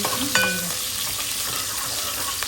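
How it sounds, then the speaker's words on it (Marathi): Onions, chili and garlic sizzle steadily in a pan, a close, dense frying hiss with a brief clink of a utensil near the start and no talk. "हे बघा थोडं आता आपण शिजवू कांद्याला मस्त"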